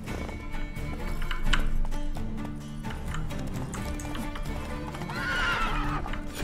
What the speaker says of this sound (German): Pferdepanik steigt auch.